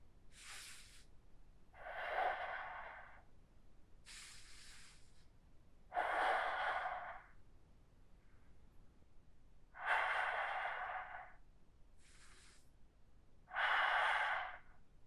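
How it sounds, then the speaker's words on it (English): Slow, deliberate yoga breathing during a morning session, with audible inhales and longer airy exhales alternating in a steady rhythm, close and fairly loud, with no talking. "Breathe into the left rib cage."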